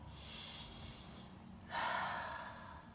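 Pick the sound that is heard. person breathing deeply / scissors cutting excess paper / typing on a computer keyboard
person breathing deeply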